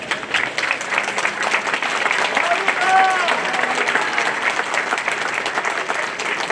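An audience at a public ceremony in Bibione applauds the Veneto regional president with steady, dense clapping that is close and sustained throughout, with faint voices and a brief whistle-like tone in the crowd.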